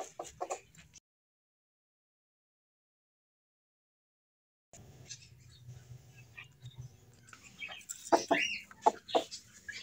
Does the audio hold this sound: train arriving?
no